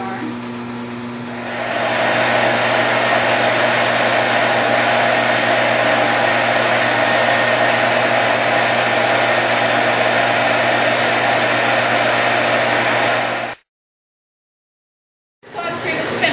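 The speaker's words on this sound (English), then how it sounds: "Going through the spinner for a single ply, it has to be plied together." A fiber mill yarn spinner machine runs with a loud, steady whirring drone and a constant hum that holds for many seconds, then stops abruptly before a brief restart.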